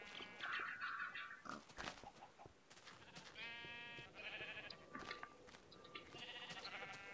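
Minecraft sheep bleats and pig oinks, several short calls repeating over game background noise, with people talking in between.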